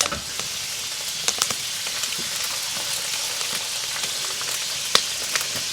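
Deer steaks sizzle and fry steadily in a cast iron frying pan at a rustic log cabin hunting camp, a close, continuous crackling hiss with occasional sharper pops.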